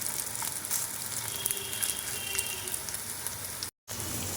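Pieces of jackfruit frying in hot oil in a home kitchen, giving a steady, dense sizzle that carries evenly at close range, with one very brief gap near the end and no talking.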